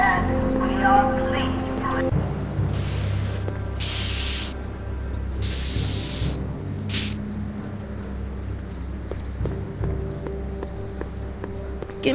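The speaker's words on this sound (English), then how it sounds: "Give me a can of spray paint." A spray paint can sprays in the Back to the Future adventure game: four hissing bursts, three long and one short, over a low game soundtrack.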